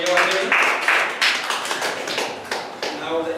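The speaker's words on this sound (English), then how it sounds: "let us give us big round of applause to Toastmaster" An audience claps for the Toastmaster at a Toastmasters club meeting, a short burst of fairly close, irregular hand claps from a small group.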